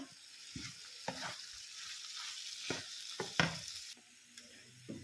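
Egg and vegetables stirred and fried together in a pan, several scraping strokes of a utensil against the pan over a soft, steady sizzle, fairly close and quiet, with no voices.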